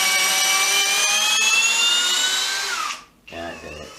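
A Makita power drill whines at high speed under load, close and loud, its pitch sagging and stalling before a brief rougher restart.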